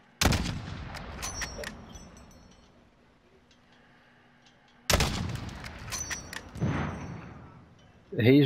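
Call of Duty Warzone gunfire cracks out in two loud, close bursts of rapid shots several seconds apart, separated by a quieter stretch. Players talk over the action.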